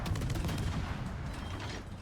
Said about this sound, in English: Blind firing us with his secondaries